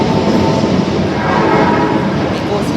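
A Tanimachi Line series 22 subway train, car 22615 at the Yaominami end, passes close and loud in a dense, continuous roar of wheels and motors, its horn blending into the rumble.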